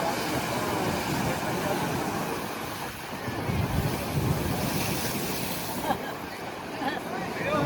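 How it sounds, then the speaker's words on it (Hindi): Arabian Sea waves roar and wash continuously against the shore at Dwarka, with strong gusting wind buffeting the microphone, loud and close, with no break in the surf. "चारों ओर फैला अथाह अरब सागर, लहरों की गर्जना"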